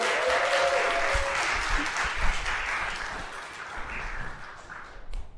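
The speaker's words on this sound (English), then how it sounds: "Can we get another big round of applause" Audience applause fills a room after a talk on Asian American identity and mental health: steady, dense clapping that stays loud, then slowly thins and fades toward the end.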